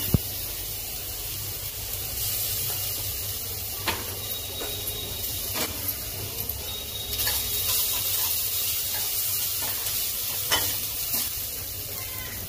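Onion that has browned red frying in a pan with ginger-garlic paste while cooking veg biryani in Healux cookware, giving a steady close sizzle with brief clinks and scrapes of stirring throughout, no talking.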